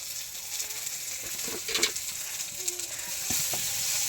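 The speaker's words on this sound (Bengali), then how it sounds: "এখানে তেল দিয়ে দিয়েছে পাঁচ ফোড়ন দিয়ে দিয়েছে আর এখানে আম দিয়ে ভাজা হচ্ছে" Mango pieces fry in hot oil with panch phoron spices for a fish roe chutney, a steady close sizzle punctuated by several clattering stirs of a spatula in the pan.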